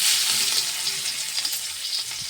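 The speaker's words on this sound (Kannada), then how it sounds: "ಈಗ ಎಣ್ಣೆ ಕಾಯ್ದ ಬೆಳ್ಳುಳ್ಳಿ ಹಾಕ್ತೀನಿ ನೋಡಿರಿ." Garlic frying in heated oil sizzles steadily and close up, a dense crackling hiss with small pops and no voices.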